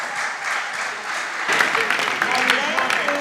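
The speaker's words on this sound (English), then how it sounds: "Round of applause." An audience at a school quiz competition applauds a student, with a busy wash of clapping and crowd noise that grows louder halfway through.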